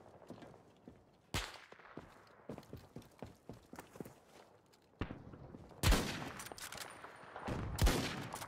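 Gunfire and footsteps in Battlefield 2042: a string of soft steps and light taps broken by a few sharp, loud shots, with louder bursts near the end.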